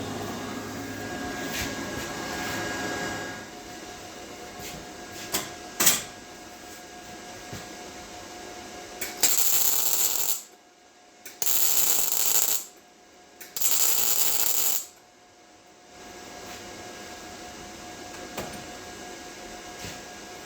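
An Arccaptain MIG 205 Pro MIG welds 18 gauge steel with too much wire speed, producing three bursts of crackling, hissing arc, each a second or two long. Short pauses separate the bursts, and quieter shop background noise comes before and after them.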